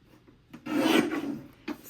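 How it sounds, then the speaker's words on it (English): A paper trimmer blade slides through scrapbook paper for a Yellowstone page kit, making one close, raspy scraping stroke lasting under a second, with a short scrape just after and no speech. "All right, we'll trim this at 11 1/4,"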